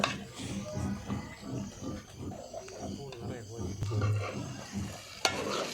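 Cooked tapioca and chicken parts being mixed in a pan, with low scraping and shuffling strokes and a light sizzle under a voice talking throughout.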